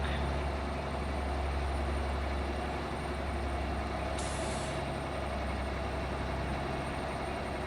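A Mack truck in a trucking game rumbles at a steady idle with a low engine drone, and a brief hissing air-brake release rises partway through, without any talk.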